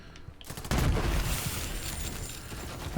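Rapid automatic gunfire from a gun in the video game Borderlands 3, a sustained dense burst of shots after a brief quiet start, no talking.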